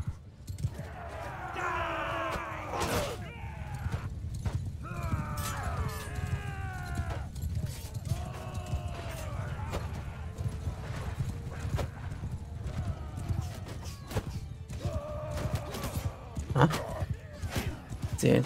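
Horses in a medieval strategy game, hooves clip-clopping steadily with riders aboard and an occasional neigh, layered over a busy game soundtrack and noise throughout.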